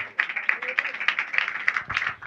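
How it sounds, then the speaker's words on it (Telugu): An audience claps in church, a quick run of sharp, fairly even claps with a rapid rhythm, close and moderately loud. "చప్పట్లు కొట్టాలి అప్పుడు."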